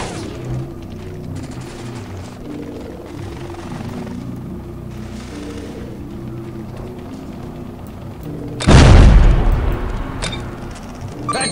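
A satchel charge detonates on a mortar base plate in the Delta Force: Black Hawk Down video game: a single loud, deep boom hits after a stretch of steady engine-like drone and rolls off over a couple of seconds.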